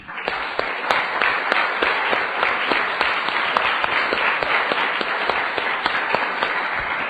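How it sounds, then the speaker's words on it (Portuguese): Church congregation applauding together, a dense, loud and continuous wash of clapping that holds steady throughout with no voices over it. "Quem pode aplaudir o Senhor Jesus?"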